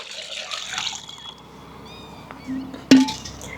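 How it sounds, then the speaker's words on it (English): Lukewarm water pours from a big kitchen pot in a short, moderate splash that rises near the end; otherwise quiet, with no talking. "I have lukewarm water in this big pot. I am going to take some water."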